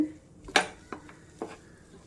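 A spoon stirring roasted banana into a rava mixture in a pan, giving a few distinct metallic clanks and scrapes, one louder knock followed by softer taps, fairly close.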